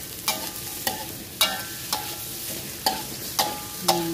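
Ginger, chili and shallots stir-fried in a pan: a steady sizzle with sharp spatula scrapes recurring about every half second, close and fairly loud, no voices.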